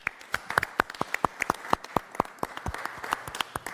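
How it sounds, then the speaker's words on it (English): Scattered clapping from a small group at a special and work session meeting, a few dozen distinct sharp claps in an uneven rhythm over a few seconds, fairly close and moderately quiet with no talking over it. "I think Mike deserves a round of applause for what he does."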